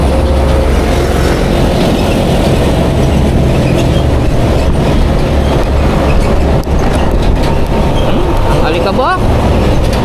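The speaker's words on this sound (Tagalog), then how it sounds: "may LRT na" A light rail train rolls past at close range, loud continuous rumbling and rattling with a brief squeal near the end, heard from a vehicle stopped at a gas station.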